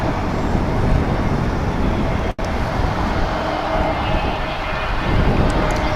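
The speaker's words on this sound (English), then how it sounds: "Here is American Flight 2023, an A321 that's going to San Francisco." An American Airlines Airbus A321 airliner at Dallas/Fort Worth airport gives a steady, loud broadband jet roar that holds for the whole stretch, broken by one very brief dropout midway.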